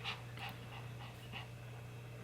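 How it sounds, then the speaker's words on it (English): A dog pants rapidly and steadily close by, each quick breath audible over a constant low electrical hum, with a faint whimpery edge at times. "Sorry, he is panting so much."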